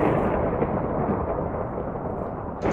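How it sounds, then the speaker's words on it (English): Lightning thunder in a Minecraft-style game fight, a loud sustained rumbling roar that fills the whole clip with no pause, ending in a brief sharp crackle. "I can see you're hitting me with lightning."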